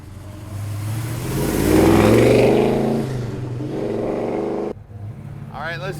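Engine of a 1968 Chevrolet Chevelle rumbling and revving up close, the pitch climbing and holding before it drops off, with other sounds near the end.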